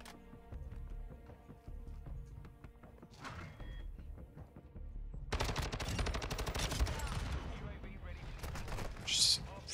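STB 556 assault rifle firing in Call of Duty: Modern Warfare II, quiet game sounds at first, then rapid automatic bursts that crackle loudly through the second half, with a player talking over the action.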